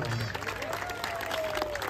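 An audience at a cricket premier league award ceremony applauds for women volunteers, a continuous wash of clapping heard under a speaker's voice.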